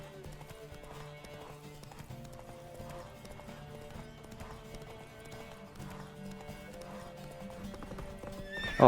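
Roach, the horse in The Witcher 3: The Wild Hunt, gallops with a steady, rhythmic clip-clop of hooves and lets out repeated whinnies. A low music bed sits underneath.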